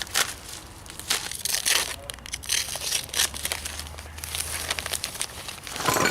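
Plastic sheeting is cut and pulled away from a fresh concrete sidewalk on a cold day, giving close crinkling, crackling and tearing rustles in uneven bursts, with a faint low hum underneath.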